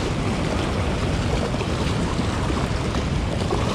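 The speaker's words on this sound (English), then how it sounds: "this water is gushing today." Water gushing hard through the spillway at the Green River tailwaters in Kentucky, a loud, steady broadband roar that fills the whole clip with no break and no voices.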